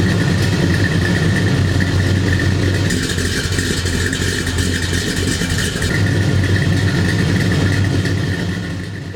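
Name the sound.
1969 Chevy Chevelle Super Sport engine idling with Holley carb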